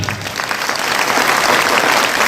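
A hall audience at a Hindi business-building seminar breaks into loud, sustained applause, dense clapping building steadily and staying strong to the end.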